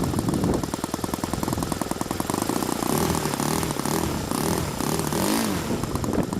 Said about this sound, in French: Et donc, le moteur démarre impeccable.